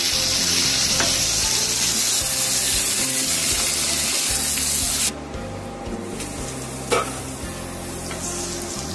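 Spices with garam masala fry in oil for a jackfruit curry on low-medium heat, a continuous loud sizzle with stirring that briefly drops when the pan is disturbed partway through.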